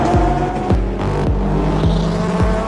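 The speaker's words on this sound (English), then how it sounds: "Ladies and gentlemen, start your engines" Race car engines roar loudly and continuously up close, punctuated by about five rhythmic downward-sweeping whooshes of cars passing or shifting, with tire squeal and no voices.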